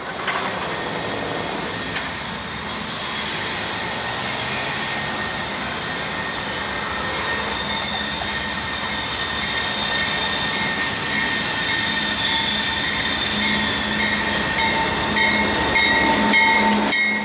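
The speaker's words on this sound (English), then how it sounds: "With the Baltimore Street crossing activated, IO 1620 rounds the corner with two classic GEs in the lead." A CSX freight train led by two classic GE locomotives, a C40-8W and a pre-production C40-9W, rounds a curve at a Baltimore Street crossing on Sand Patch Grade, producing a continuous, loud rumble with high wheel squeal and steady tones.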